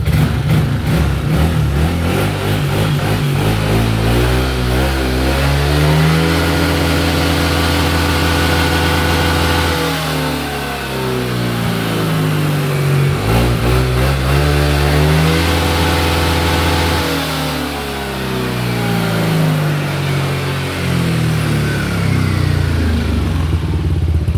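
A Yamaha Nmax scooter, upgraded to a 60 mm piston, revving with its rear wheel lifted off the ground; the engine climbs and falls repeatedly, loud and close, with no talk.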